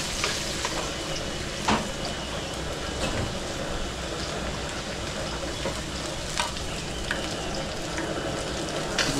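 Garlic sizzling in hot oil in a pan, a dense steady crackling hiss with occasional louder pops, continuous and close throughout, no voices.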